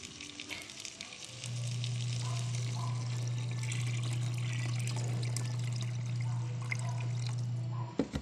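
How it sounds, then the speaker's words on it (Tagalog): Water pours into a pot of corn soup on the stove, a steady rushing stream over a sizzling, bubbling cooking background, ending with a clatter. "Lagyan natin ng tubig."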